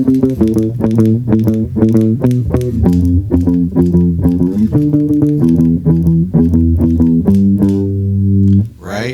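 A bass line played with a clean, basic bass tone on a 7-string guitar with the 7th string tuned down, with all effects removed: a steady run of plucked low notes in an even rhythm, loud and close, with no talking.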